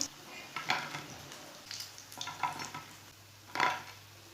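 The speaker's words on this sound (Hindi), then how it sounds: "मज़ेदार शिमला मिर्च के पकोड़े हमारे तैयार हो चुके हैं" Capsicum pakoras fry in hot oil with a soft, steady sizzle, broken by a few clinks and scrapes of a utensil against the pan, all fairly quiet and close.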